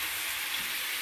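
Liver with onions cooking slowly in a pan, giving a steady, close sizzle and hiss with no voices over it.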